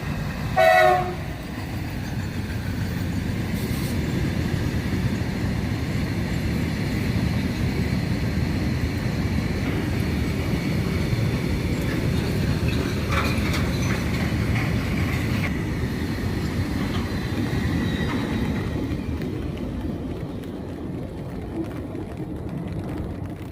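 A train runs along a railway line beside a wetland (beel) between the tracks and a national highway, rumbling loudly and continuously, with a brief horn toot at the start and the noise fading toward the end.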